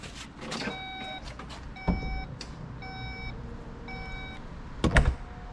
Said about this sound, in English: Whenever you guys are done with the trunk, you can just press this button and it will close it for you